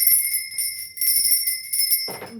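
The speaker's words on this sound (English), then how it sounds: "Now I'm going to be ringing this lovely lady bell" A small handheld lady bell rings in several bright, sustained bursts with shimmering overtones, loud and close, then stops abruptly as a brief voice comes in at the end.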